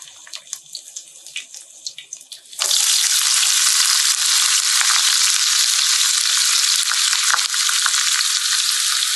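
Chopped onion dropped into hot oil in a pan: after a few quiet kitchen clinks, a loud broadband sizzle erupts abruptly and holds steady and close to the end.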